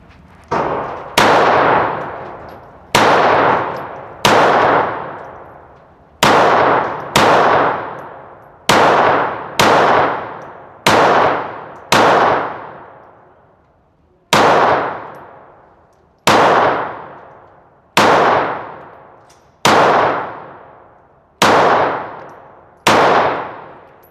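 A Glock 25 Gen 3 pistol firing .380 rounds at a range: about fifteen loud, sharp reports spaced one to two seconds apart, each ringing out with a long decaying tail.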